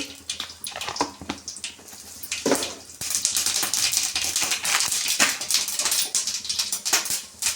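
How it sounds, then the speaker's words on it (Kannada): Mustard seeds sizzle in hot oil for a tomato sambar, a dense, steady crackle with sharp pops scattered through it, loud and close, with no talking. "ಅದಕ್ಕೆ ಒಂದು ಸ್ವಲ್ಪ ಎಣ್ಣೆನೇ ಹಾಕೋತಾ ಇದ್ದೀನಿ ಸಾಸಿವೆನ ಹಾಕೋತಾ ಇದ್ದೀನಿ"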